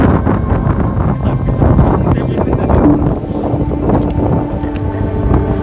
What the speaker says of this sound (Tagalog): Sobrang mahangin po dito.